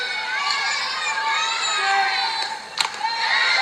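A softball crowd at a Mississippi State versus Georgia game reacting with disapproval to a strike call, a sustained mass of voices shouting and groaning from the stands with a few sharper cries.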